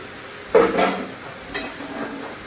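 Snake gourd cooking in a pan gives a low, faint sizzle, broken by a couple of short clanks and scrapes of a spatula against the pan, close by with no voices.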